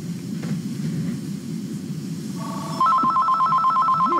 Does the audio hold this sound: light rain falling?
no